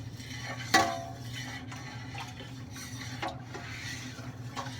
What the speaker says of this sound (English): Now you just want to stir this up really good